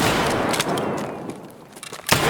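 Sharp gunshots pop over a dense, noisy soundscape in the video game Escape from Tarkov, with one burst early and a louder crack near the end.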